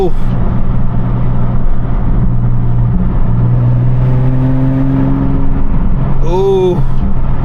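An Infiniti G37 with new black rims downshifts and revs on a drive. A steady engine drone rises in pitch through the middle, and a short sharp chirp comes near the end, with people talking over it.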